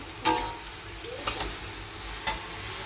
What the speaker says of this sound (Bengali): এইদিকে ভেজে নিচ্ছি ধনে পাতার পালং শাকের মিক্স করে একটা বড়া